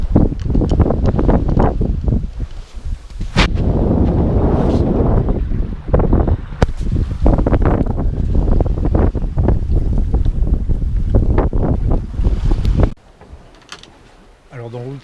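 Sailboat under way at sea in an 11-knot wind at about 5 knots, with steady rushing water along the hull and heavy wind buffeting the microphone, loud and continuous until it suddenly drops away near the end.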